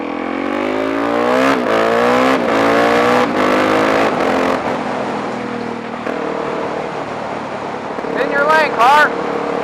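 A motorcycle engine revs hard through quick clutchless gear shifts, pitch climbing then dropping sharply at each change, loud and close, before easing back to first gear; a short speech-like sound rises near the end.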